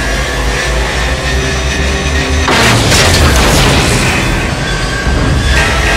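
Missiles launch in the video game Call of Duty Infinite Warfare: after a loud engine drone, a sudden whooshing blast erupts about midway and carries on as a roaring, crackling rush.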